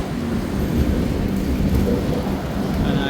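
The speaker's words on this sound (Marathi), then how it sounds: "पाऊस चालू झाला." Rain falls steadily with a low rumbling wash on a train journey through the Konkan hills, a continuous, fairly loud downpour blended with the steady roll of the moving carriage.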